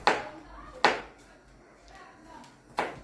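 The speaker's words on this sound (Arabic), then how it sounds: "هنقطع الثوم، ممكن تقطع الثوم" A knife chops garlic on a cutting board with three sharp, loud strikes spaced unevenly, and near-quiet between the blows.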